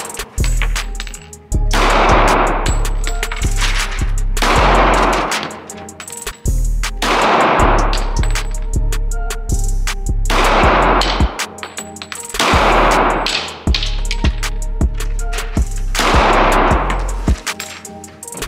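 Repeated bursts of gunfire at a gun range, loud and close, with sharp cracks in clusters and echoing decay between volleys across the whole stretch.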